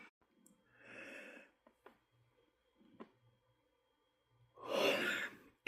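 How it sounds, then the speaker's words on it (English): A person yawning at night, a long breathy exhale followed later by a louder, drawn-out yawn with rising breath, close and alone in a quiet room. "That was not a planned yawn."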